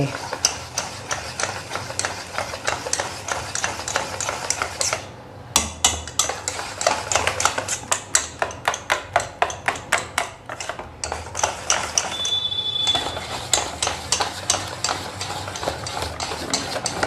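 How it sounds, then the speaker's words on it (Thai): Chickpea flour batter beaten in a bowl, a fast, steady run of close, sharp utensil clicks and taps against the bowl's side, with a brief pause midway. "คนให้แตกดีเลยนะคะ"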